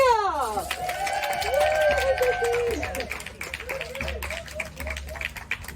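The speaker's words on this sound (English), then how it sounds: "let's join together now to clap and to cheer." Live audience at an August 2023 spoken word stage claps and cheers together, a dense wash of hand claps with whoops and voices rising over it, steady and fairly loud throughout.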